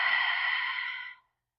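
A single long, smooth exhale during a slow yoga flow, a close breathy sigh lasting about a second before fading into silence.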